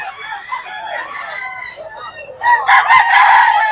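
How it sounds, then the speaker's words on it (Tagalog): Hens cluck and chatter close by at a poultry market, then a rooster crows loudly near the end over the flock's noise. "Boss Ray, magkano sa mga manok mo?"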